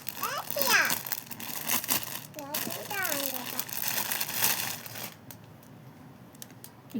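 Plastic packaging around clothing from an online order crinkles and rustles as it is opened, with bursts of crackly handling noise close by while people talk over it, then quieter intermittent rustles at the end.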